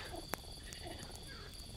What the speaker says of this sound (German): Mit den Fröschen und so.